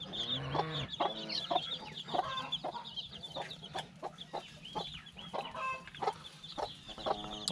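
Chickens cluck and chirp close by in a busy, irregular stream of short calls, with high peeps mixed among hens' clucks and no talking.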